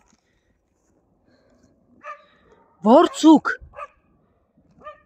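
Dogs bark in a short burst of several sharp, loud barks close by, with a fainter yip before and after them and a person speaking nearby.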